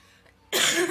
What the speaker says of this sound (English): I need to get over this cough